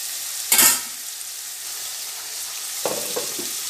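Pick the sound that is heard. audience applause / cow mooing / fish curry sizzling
fish curry sizzling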